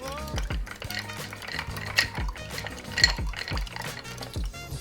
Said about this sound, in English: Let me just give that a little stir.